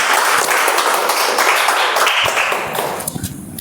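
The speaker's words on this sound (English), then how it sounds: "Give a big round of applause for" Round of applause from a small meeting group, a burst of close clapping that holds steady and then thins into scattered claps as it fades.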